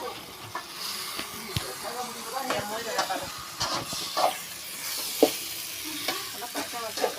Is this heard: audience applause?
no